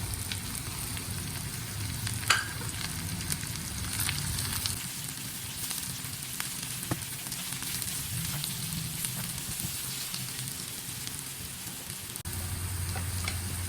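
Oyster mushrooms for adobo go into a hot pan, a steady dense sizzle and frying crackle that holds close and even throughout, with occasional stirring clicks and no talking.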